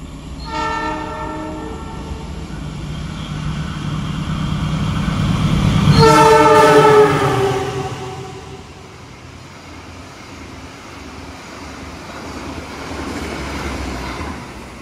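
A passenger train speeds past a level crossing during the Lebaran holiday period, its horn blaring loudly in repeated blasts as the roar of the carriages swells to a peak and then fades away.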